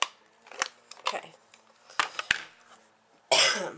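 Several short, sharp coughs in a scattered sequence, ending with a longer rough burst, close to the listener.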